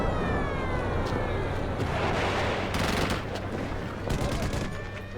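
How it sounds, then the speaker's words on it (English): Dense, continuous roar of heavy gunfire and explosions as Jordanian guns and mortars shell Jerusalem, with sharp blasts bursting through a loud rumbling barrage throughout. "Jordanian guns and mortars start to shell the Israeli half of Jerusalem."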